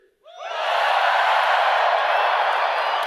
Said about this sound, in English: That's your cue to cheer.